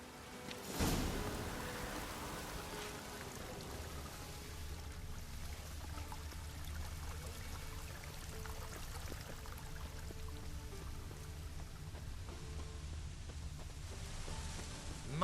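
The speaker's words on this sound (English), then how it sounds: "Rain again." Steady rain falls in The Witcher 3 video game, a soft continuous patter and hiss with a low rumble, faint and even throughout after a brief sharp knock at the start.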